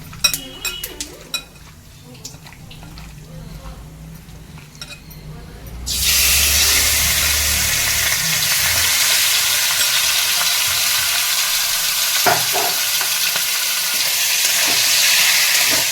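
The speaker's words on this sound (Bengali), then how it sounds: "গরম হয়ে গেছে মোটামুটি আমি সারা ফোড়ন দিয়েছি" Whole spices are tempered in hot oil for a chicken dish. After a few light clinks of utensils, a loud, sudden hiss of sizzling bursts out and keeps crackling steadily up close.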